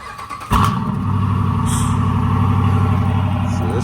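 A straight-piped 2014 Jeep Grand Cherokee Overland Hemi V8 cold-starts with a sharp starter crank and loud bark, then settles into a steady, rumbling, throaty idle, close by.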